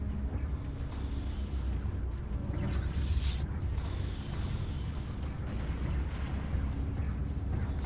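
Space fleet weapons fire rumbles through a Stellaris battle against an ancient dreadnought, a continuous low booming wash with a brighter burst partway through, sustained and dense rather than distinct shots.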